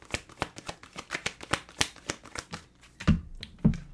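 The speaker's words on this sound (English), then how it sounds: "You think I be shuffling these cards for my health?" Tarot cards are shuffled in a quick run of crisp riffling flicks close to the mic, about a dozen evenly paced snaps followed by two heavier thumps as the deck is squared.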